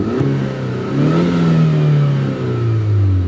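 A 2009 Chevrolet Cobalt SS engine revs hard under acceleration, a loud close whine rising through the gears with a brief dip at a shift.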